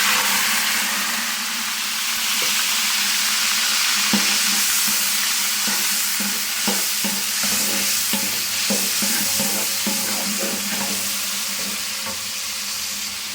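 Onion paste with ginger and garlic hits hot oil alongside cardamom and sizzles steadily in a pan, with repeated scraping stirs clattering through the frying hiss, close and alone without talk.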